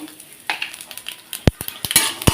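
Dried red chillies, lentil bori and black cumin frying in a pan, a soft broadband hiss punctuated by a few sharp spatula and utensil clinks against the metal, close and fairly loud, with no talk.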